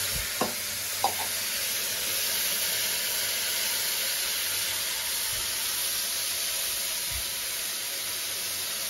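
Water is poured into hot tempering spices, and a steady soft steaming hiss and sizzle follows, with a couple of brief clinks near the start and a low, even sizzle afterward.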